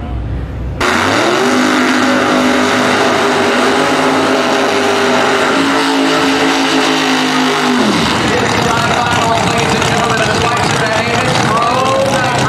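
Pro Nitrous drag racing cars at the PDRA World Finals, Virginia Motorsports Park, roar loudly and steadily as the engines rev and pull away, a dense sustained engine blare that shifts in pitch partway through.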